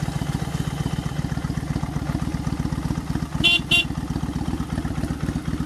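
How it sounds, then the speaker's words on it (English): A 2000 Kawasaki Vulcan Nomad VN1500 motorcycle with a 1500cc engine and aftermarket exhaust idles with a steady low throb, and two short, bright horn beeps sound close by partway through. "Cool sounding horn."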